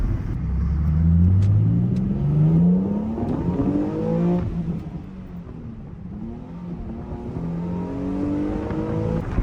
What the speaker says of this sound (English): we're gonna roll the windows down, do a little pull for you guys